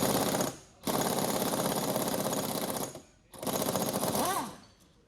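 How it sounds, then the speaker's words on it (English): An impact gun loosening the nut on a car strut fires in two long, loud hammering bursts separated by a short pause, then trails off, close up with no talk. "set the impact gun to the loosening position and attach it to the same nut"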